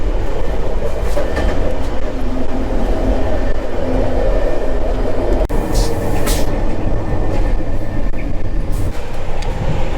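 An intercity train rumbles along steadily with a loud, continuous low roar and faint rhythmic clatter of wheels on track, heard from inside a carriage as it approaches Wrocław Główny station.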